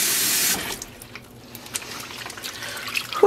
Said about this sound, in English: I'm gonna fill up the basin.